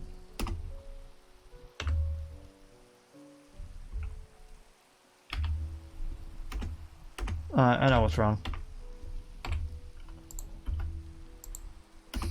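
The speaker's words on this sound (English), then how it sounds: "I was typing in chat." Computer keyboard typing while playing Minecraft, scattered sharp key clicks in short bursts close to the microphone, with a brief spoken remark partway through.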